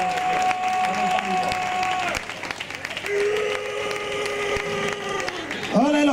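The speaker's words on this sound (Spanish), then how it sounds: "No me estáis aplaudiendo suficientemente a mi jadeñito." Audience applause at a live comedy show in Santa Coloma, dense and steady clapping from a crowd, with a sustained tone and a voice cutting through partway.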